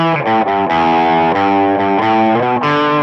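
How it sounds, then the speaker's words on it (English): Heavily distorted electric guitar plays sustained chords with brief gaps between changes, loud and upfront, with no voices. "Then the distortion comes back on after 1 repeat"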